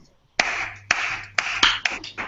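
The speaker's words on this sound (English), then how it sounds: "I would like to request you guys to clap for our audience." Several sharp claps ring out in the studio of a live game show, spaced irregularly and close to the mic, too sparse to be full applause.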